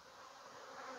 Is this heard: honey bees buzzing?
yes